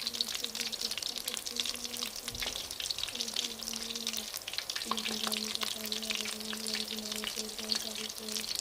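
Potato patties (aloo patties) fry in a pan with a steady, close sizzle that lasts the whole time, with faint crackles scattered through it.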